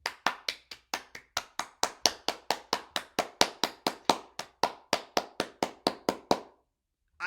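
A single person claps their hands at a steady pace, about two dozen crisp, close claps that stop abruptly, with no talking.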